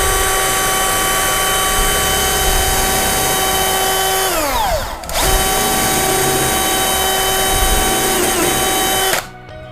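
A power drill drives into a wood pallet workbench surface with a loud, sustained high whine, slowing and dipping briefly midway, then spinning up again before cutting off abruptly at the end.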